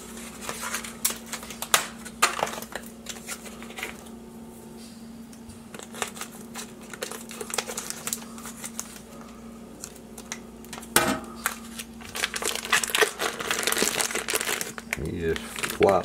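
Crinkling plastic packaging of Adele's Cajun style andouille sausage, handled in a kitchen while red beans and rice cook in one pot; scattered crackles and rustles come and go close by under a steady low hum, with a person talking over it.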